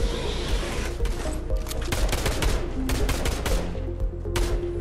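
Gunfire in the video game Fortnite, dense bursts of rapid shots crackling continuously and loudly, with overlapping volleys and no pause throughout.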